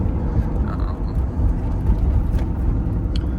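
Lamborghini Diablo engine droning steadily from inside the car while driving, a loud low rumble with road noise and no real pauses.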